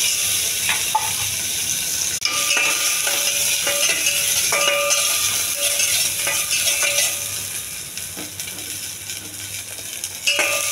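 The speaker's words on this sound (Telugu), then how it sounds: "తాలింపు వేగిందండి" Mustard seeds, cumin, dried red chillies, curry leaves and onions fry in hot oil for a tempering, giving a steady close sizzle with stirring clinks and scraping throughout, no voices.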